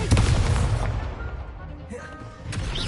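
Expelliarmus spell cast in the game Hogwarts Legacy, a loud blasting burst with crackling impacts and a rumbling tail, brief swell near the end.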